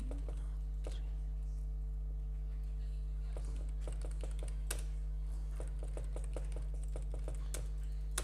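Company details typed into Tally Prime on a computer keyboard, a string of quick light key taps that pick up speed toward the end, heard over a constant low electrical hum.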